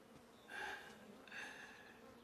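Bees buzz near the listener in two swelling passes, the droning hum rising and fading against a quiet background.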